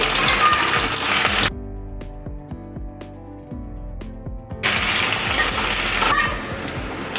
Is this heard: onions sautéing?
yes